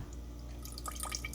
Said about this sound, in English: that's a pretty pitiful stream going on there